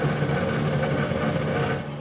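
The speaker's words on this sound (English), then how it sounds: "this is the limiter sound" A BMW Z4 GT3 racing engine in a racing video game held at the rev limiter, a steady buzzing drone with rapid cutting stutter, loud and continuous throughout.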